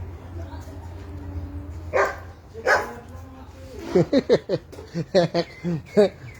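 A dog barks in a rapid burst of sharp, fairly close barks near the end, after a couple of earlier single woofs, with people speaking around it.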